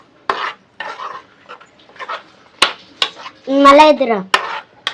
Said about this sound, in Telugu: నువ్వు కలుపుతా ఉండి నేను పాలు వేస్తా. కలుపు.